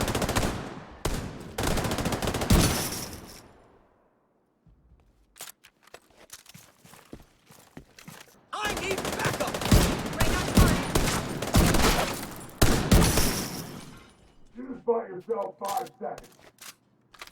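A heavy enemy's machine gun in The Division 2 hammers out long loud bursts, broken by a quiet pause, with a voice talking over parts of the firing.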